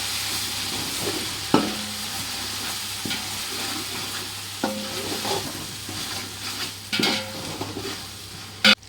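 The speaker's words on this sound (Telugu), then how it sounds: "వేసిన తర్వాత దాన్ని కలపాలి." A spoon stirs tomato pieces and ginger-garlic paste in a frying pan for mutton biryani, giving repeated scrapes and clinks against the metal over a continuous sizzle, ending in a sharp knock, with no one talking.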